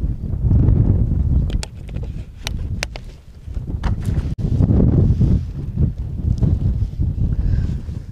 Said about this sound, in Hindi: फिलहाल में जो हवा चल रही है